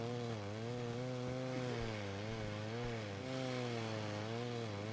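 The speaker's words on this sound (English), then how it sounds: "I hear a chainsaw, bro." A chainsaw in a video game runs continuously and close, its engine pitch wavering up and down with a steady buzzing drone.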